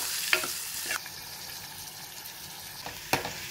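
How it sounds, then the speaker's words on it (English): Dry fruits roast in a pan over a low flame for sheer khurma, a soft, quiet sizzle with a few gentle stirring scrapes and clicks, close up, with no talking. "Roast these dry fruits on a low flame till it becomes light golden in color."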